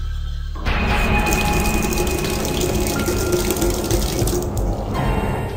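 A bathroom tap suddenly gushes on after a brief quiet moment, water running in a steady loud stream, then cutting back near the end.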